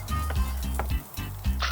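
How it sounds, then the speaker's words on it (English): Fresh dressed cherry tomatoes sizzling on a grill, a loud close crackling sizzle with rhythmic scraping and stirring strokes about every half second, no talk. "we're gonna go ahead and dress those and just kiss them on the grill also"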